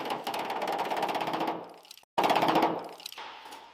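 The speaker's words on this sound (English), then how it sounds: "Now listen to the scalar work on this heavy corrosion." A scaler chatters against heavy corrosion on a 1933 Pierce-Arrow Silver Arrow in rapid machine-gun-like bursts, close and harsh, with a short pause before a second burst that tapers off.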